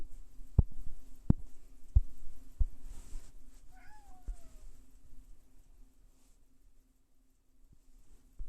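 A cat meows once, a short rising-falling call in a quiet room, alone amid a few faint low thumps and knocks.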